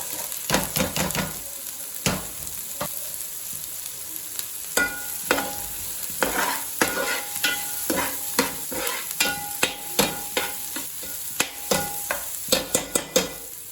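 Carrot and beans stir-fry for prawn fried rice, a hissing sizzle under a quick run of metal ladle strikes and scrapes against the pan, tapping faster and louder toward the end.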